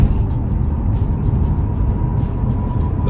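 A 2007 Mercedes SL65 AMG R230 with a 6.0-litre twin-turbo V12 drives fast, giving a loud, continuous engine and road roar heard from close by, without speech.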